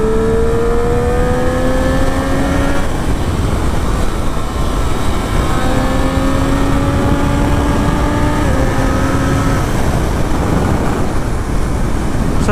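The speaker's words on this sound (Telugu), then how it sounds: "so this is the amount of power this bike is producing" A 2023 Triumph Street Triple RS motorcycle accelerates at full throttle, its engine note rising through the gears in long climbing sweeps under loud, constant wind rush.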